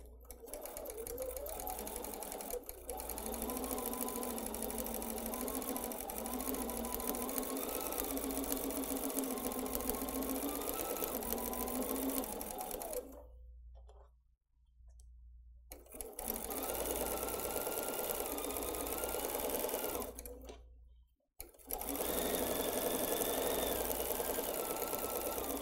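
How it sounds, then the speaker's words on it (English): A sewing machine stitches a pieced quilt block for a table runner, its steady motor hum running in long continuous bursts with two brief pauses between seams, close and alone with no talk. "let's take that to the sewing machine right now"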